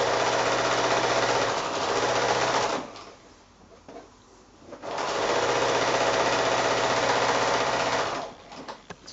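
A sewing machine joins rows of a nine patch quilt made from novelty squares, running in two long bursts of fast, even stitching with a quieter pause between them, near and loud.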